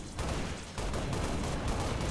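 A loud, dense explosion blast fills a Halo Reach campaign battle, with a brief dip before the roaring burst continues as rumbling gunfire-like noise.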